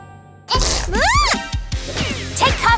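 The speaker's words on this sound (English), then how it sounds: "He's gonna sneeze again!" A cartoon baby sneezes with a sharp, loud burst, then whooshing, swooping cartoon sound effects follow, all close and alone with no talk.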